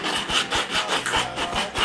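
Carved wooden masks being sanded by hand, a steady rhythmic rasping of abrasive strokes across wood, close and fairly loud, repeating about every quarter second with no talk.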